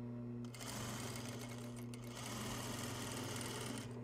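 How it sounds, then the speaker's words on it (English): A sewing machine stitches a basic seam along the edge of apparel fabric, a near, steady rapid whir with a slight rhythmic chatter throughout. "And you can sew right down the edge of this."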